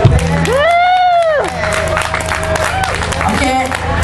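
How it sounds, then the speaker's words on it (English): A live audience at a nighttime show cheers and claps, with whoops and shouts rising over a loud crowd roar, while a voice sings a sustained note above the noise. "I know all y'all clapping are having fun."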